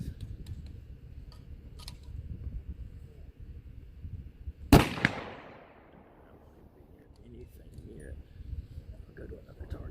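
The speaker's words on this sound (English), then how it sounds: "first round ran fine through the gun, it feels like" A single sharp crack from an 18-inch 6.5 Grendel rifle with a Shepherd scope rings out outdoors mid-clip, followed by a fading echo tail against quiet background hiss.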